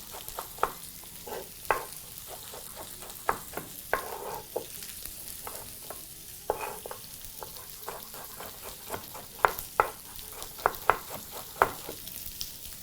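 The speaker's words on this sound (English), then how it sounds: "still frying at high heat of course." Vegetables sizzle and crackle steadily in a hot pan over high heat, with irregular sharp pops and scraping clicks as they are stirred, no voices.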